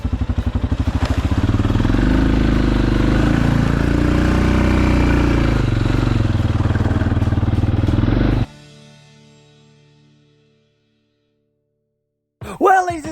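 Honda Rincon 650 ATV engine running loud and steady while riding for about eight seconds, then cutting out to near silence before a short burst of noise at the end.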